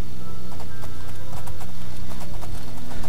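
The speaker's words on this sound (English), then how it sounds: "Oh, my horse is slow." Horse hooves clip-clop in the video game Oblivion, a steady rhythm of close, loud hoofbeats over a constant bed of game ambience and music.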